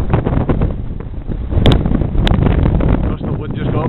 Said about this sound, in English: Just the wind just got up there.